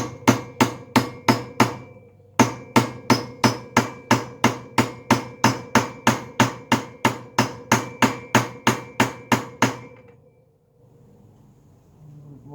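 A hammer taps on a socket to drive a wheel bearing into a GasGas motorcycle front hub, giving about thirty sharp, evenly spaced metallic knocks with one short pause, then quiet.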